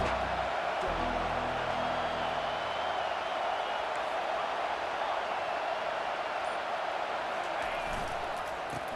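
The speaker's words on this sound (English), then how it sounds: "This crowd trying to make life miserable for this offense." A stadium crowd roars steadily in the EA Sports College Football 25 video game, a dense wash of cheering that stays loud the whole time while a commentator talks over it.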